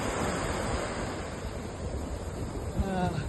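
Ocean surf washes along the seaside at Blue Bay, a continuous broad roar of breaking waves with wind buffeting the microphone, steady and fairly loud throughout.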